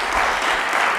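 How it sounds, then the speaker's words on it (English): An audience at a museum photography talk claps in a dense, even burst of applause that fills the room briefly and loudly, with no speech over it. "Round of applause for Gail, little one."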